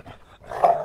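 A person imitates a dog growl, low and rumbling, building in the second half, close and fairly loud, after a quieter, grumbling start.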